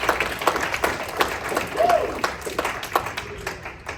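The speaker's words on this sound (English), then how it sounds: "Again, team, please clap for your family." A banquet hall full of people clapping steadily, moderately loud, with a faint voice briefly audible under the applause, at a youth hockey team banquet.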